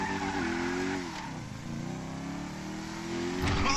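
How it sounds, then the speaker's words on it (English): A huge 140-cubic-inch motorcycle in GTA V revs hard and close, its engine whine rising and dipping in pitch with a steady roar, ending in a sharper burst, with no talk over it. "That's a monster fucking bike you riding, stupid."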